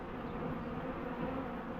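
Wasps and bees buzzing around a small beehive entrance at an apiary, a steady close insect drone filling the whole moment with no talk.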